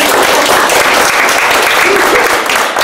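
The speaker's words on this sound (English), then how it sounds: "I think you should give yourselves a round of applause" Attendees of a women's business panel applaud themselves, loud, close, dense clapping filling the room steadily for about three seconds, with a hint of voices mixed in.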